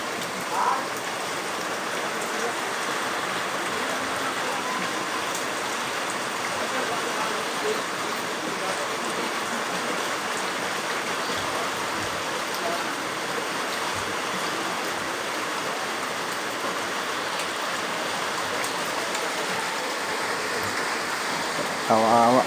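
Floodwater pours into a house in a steady, dense rushing flow that stays loud and unbroken throughout, sounding near and continuous.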